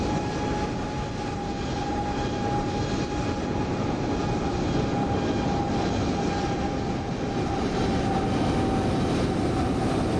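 Airbus A321neo landing in Microsoft Flight Simulator 2020, a steady, loud jet engine roar with a sustained whine that holds evenly throughout, with no talking over it.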